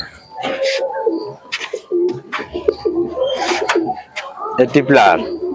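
Pigeons coo at a Madras pigeon sale, soft throaty calls that repeat across the clip, close by, mixed with other bird calls and mostly under steady talk.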